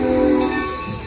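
Steam train of the Essex North Pole Express pulling away, a loud steady rumble with a sustained low mechanical drone close by, running alone without talk.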